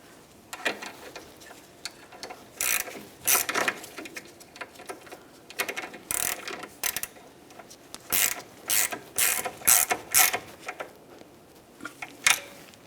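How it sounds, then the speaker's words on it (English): A ratchet tightens the rear shock absorber mounting nut on a 2009-2019 Ford Flex, quick clicking bursts in irregular clusters, close and fairly quiet. "Now we can tighten our mounting nut."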